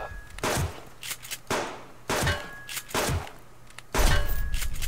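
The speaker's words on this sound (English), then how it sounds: "Jesus, he took a lot of shots." Rifle shots ring out in the survival game Subsistence: about five loud, sharp reports at irregular intervals, each trailing into a brief echoing decay, with no talking.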